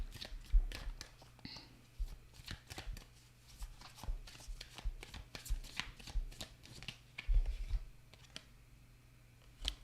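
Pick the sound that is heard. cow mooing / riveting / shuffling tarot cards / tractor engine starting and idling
shuffling tarot cards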